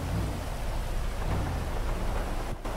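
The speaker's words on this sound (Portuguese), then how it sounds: "Agora vai ter que pegar uma chuva aí agora" A rainstorm in the video game GTA roleplay: a dense, continuous downpour hiss layered with low rolling thunder rumbles, loud and close, with no talking.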